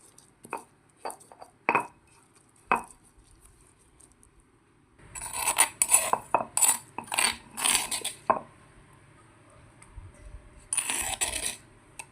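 Spice paste for Indonesian peanut and rebon peyek is ground by hand, starting with a few sharp, separate knocks and then a denser run of close scraping and clinking grinds in irregular bursts, with no talking.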